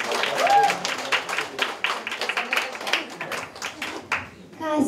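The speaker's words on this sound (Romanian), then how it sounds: "Aplauze pentru bunicii noștri!" Audience applause for grandparents at a Romanian family celebration, irregular clapping mixed with a voice speaking over it and crowd noise, fairly close and moderately loud throughout.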